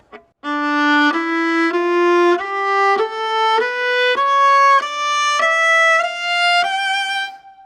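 A viola plays a slow ascending three-octave D melodic minor scale, each bowed note held about half a second, rich and close, climbing steadily from low to high.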